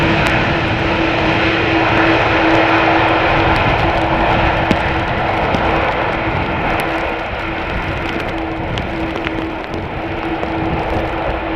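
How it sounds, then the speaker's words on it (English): Airliner landing at Amsterdam Schiphol Airport with light reverse thrust, a loud steady engine roar and rumble that holds throughout and fades only slightly, with no voices. "Not a whole lot of reverse thrust being applied there."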